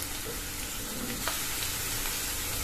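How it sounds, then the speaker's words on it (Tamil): Onions and green chillies sautéing in a pan, a dense continuous sizzle with soft stirring scrapes, close and steady throughout. "பச்சை மிளகாவும் சேர்த்து நல்லா வதக்கிக்கணும்"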